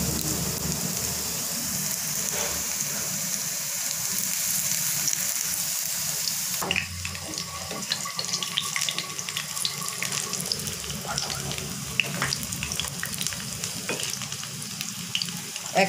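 Cabbage and beef tripe tikka patties sizzle steadily in a frying pan, a constant close hiss that grows busier with crackles and light scrapes partway through, with no talking.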